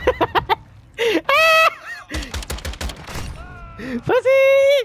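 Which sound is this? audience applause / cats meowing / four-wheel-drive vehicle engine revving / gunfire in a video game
gunfire in a video game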